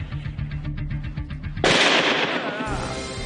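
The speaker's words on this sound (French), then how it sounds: "Il y avait vraiment un pétard." A sharp, loud firecracker bang cuts in after a brief stretch of voices, followed by a ringing, noisy decay.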